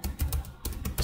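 Keys tapped on a computer keyboard while entering a pip install command in the Windows command prompt, a quick irregular run of close, crisp clicks with a brief pause partway through.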